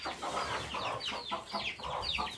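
A hen clucks in short, repeated bursts while pecking at a chick, a close series of rhythmic clucks and squawks with no people speaking.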